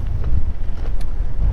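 Steady wind blusters across a sunflower field, a constant low rumble buffeting the microphone with no pauses and no speech.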